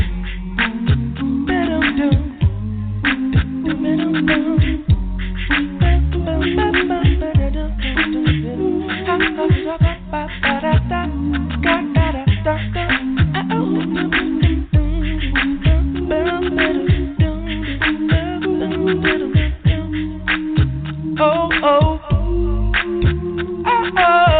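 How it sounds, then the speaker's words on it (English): Several voices sing gospel together in close harmony with no instruments, a steady rhythmic bass line pulsing beneath the layered vocal parts. "that acappella music"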